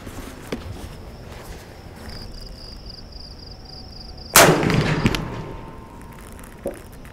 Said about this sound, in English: what do you say we load this thing up and shoot it?